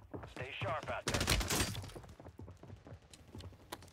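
Bursts of FFAR SMG fire in Call of Duty Warzone on Rebirth Island, with sharp rapid shots under a talking voice.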